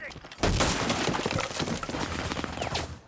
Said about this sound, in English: Gunfire goes up through the holes, but doesn't find a target